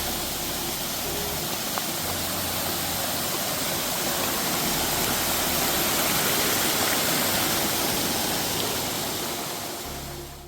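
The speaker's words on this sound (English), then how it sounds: "Coming up to our first water crossing on Snake Den." A stream at a hiking trail water crossing on Snake Den Ridge in the Smoky Mountains rushes steadily and loudly, a continuous broadband wash of flowing water with no voices.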